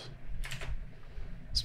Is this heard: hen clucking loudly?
no